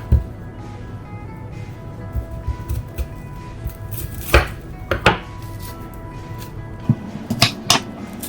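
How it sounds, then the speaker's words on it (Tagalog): An onion is sliced with a knife on a cutting board in a home kitchen, giving irregular sharp close taps, a few louder knocks standing out, with no talk over it. "Nakikita nyo hinihiwa ko yung sibuyas."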